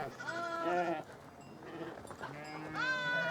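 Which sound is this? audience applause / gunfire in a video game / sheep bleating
sheep bleating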